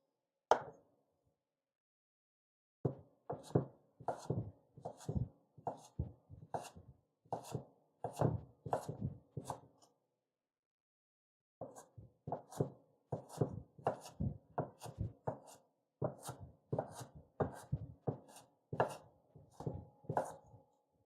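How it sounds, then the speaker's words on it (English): Steady, quick knife strokes mincing ingredients on a cutting board, crisp rhythmic chops in two long bursts separated by brief pauses, close and clear with no talking. "why does everything have to be minced?"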